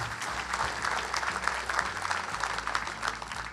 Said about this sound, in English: We can applaud all 3 of them.